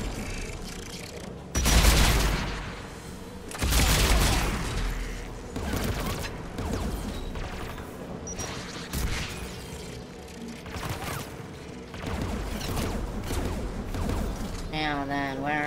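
Combat in Mass Effect 3: repeated loud bursts of gunfire and blasts at irregular intervals, with mechanical clattering between them and occasional voices over the fighting.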